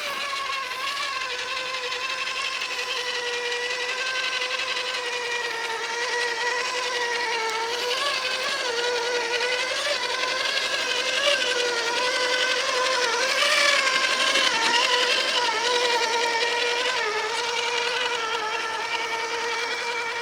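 A Traxxas TRX4 Ford RC truck motor runs in low gear on a dam trail, a steady high-pitched electric whine that rises and falls slightly with throttle, continuous and close for the whole stretch without talk.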